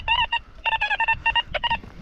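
A metal detector gives a series of short, high electronic beeping tones in quick bursts, loud and close, with brief gaps between them.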